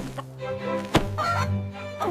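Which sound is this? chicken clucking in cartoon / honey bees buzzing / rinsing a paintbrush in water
chicken clucking in cartoon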